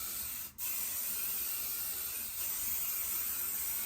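A steady aerosol adhesive spray hisses continuously onto paper on a table, close by, with a brief dip near the start and another faint pause partway through.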